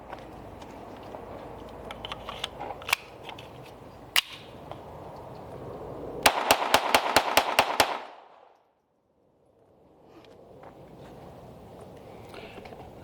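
A Sig Sauer P322 .22LR pistol firing Winchester 333 36-grain rounds at an outdoor range: a few scattered sharp cracks, then a rapid string of about eight close shots, followed by a brief near-silence as nearby range noise fades back in.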